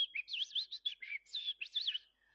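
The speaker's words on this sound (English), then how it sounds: "The sound of a bird" A small bird gives a rapid run of high, warbling chirps and tweets lasting a couple of seconds, clear and close against near silence.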